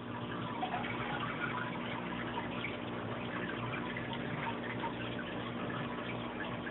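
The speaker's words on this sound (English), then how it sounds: "what's not quiet is the drip from the bioballs into the tank below it." Water dripping from bioballs in an aquarium sump filter into the tank below, a steady continuous trickle and patter with no speech, fairly quiet and even throughout.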